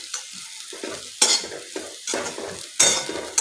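Crushed chapati churma is stirred in a pan, giving repeated close scraping and rustling strokes with bursts of crackling sizzle between quieter gaps.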